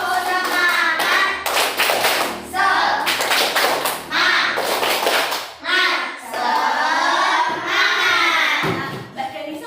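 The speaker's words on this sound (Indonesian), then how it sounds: "Yuk. Tepuk semangat." A classroom of standing children performs the 'tepuk semangat' rhythmic clapping, loud patterned claps in quick bursts mixed with chanting voices.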